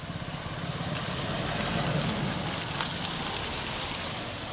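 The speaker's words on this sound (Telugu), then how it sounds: "మాకైతే వర్షం అయితే వస్తుందండి" Steady rain falling outdoors, a dense continuous hiss with occasional drop patter throughout, alone with no talk.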